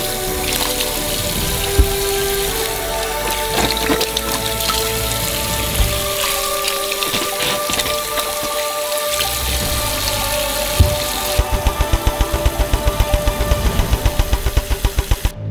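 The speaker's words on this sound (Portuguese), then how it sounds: "Enchemos elas com água e lavamos todas as laranjas." Oranges are washed in a sink filled with water, giving continuous splashing and running-water noise with clattering handling sounds, then a rapid series of sharp knocks near the end. No one speaks.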